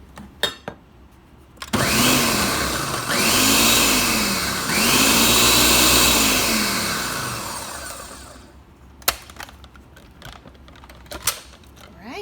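A countertop blender whirs loudly with milk, vanilla and orange juice concentrate, motor pitch rising and sagging in a few surges for about seven seconds, then cutting off, followed by scattered clicks and knocks.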